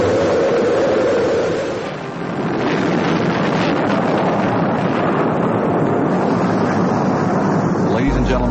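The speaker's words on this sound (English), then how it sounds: "We've gone for main engine start." Rocket main engines igniting at launch, a broad, loud roar with a rumbling, wind-like texture that dips briefly and then swells and holds.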